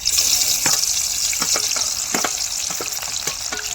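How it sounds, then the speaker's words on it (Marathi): Onions fry in hot oil for chicken dum biryani cooked over a wood-fired chulha, a steady close sizzle broken by repeated scraping stirs of a spoon through the pan, with no talk. "कांदा मस्त असा तळून घेतलेला आहे"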